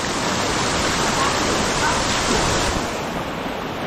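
Kalumpang Falls pouring steadily, a dense continuous roar of falling water with no breaks, fairly loud and close, slightly easing toward the end.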